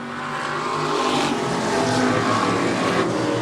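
Several Ford Pinto race cars roar past together in a STAR series race, a loud, sustained engine drone that builds slightly and holds steady with no voices.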